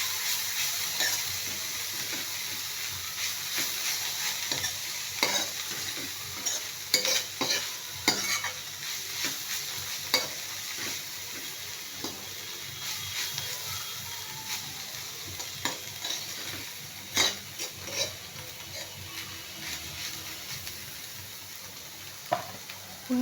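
Mixed cabbage and vegetable bhaji cooks in a pan with a steady soft sizzle, broken by repeated scraping clicks of a spoon stirring through it; close, moderately quiet, no talking.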